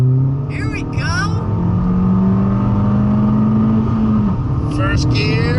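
A Ford Fiesta ST pulls hard in first gear, its engine note climbing steadily and loud from up close, with people talking and shouting over it.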